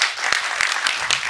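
An audience claps vigorously at a Nepali public event, a short burst of steady, dense applause with a few sharper individual claps standing out.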